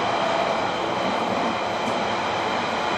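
A night train rolls past close by, a dense, loud rushing rumble of wheels and carriages that holds steady from start to finish.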